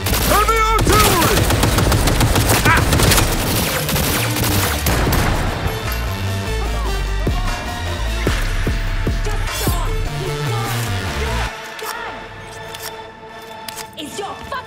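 Heavy sustained gunfire in Cyberpunk 2077: Phantom Liberty, a dense loud barrage of automatic shots with booming impacts and shouted voices over it, cutting off abruptly near the end to leave quieter background sound.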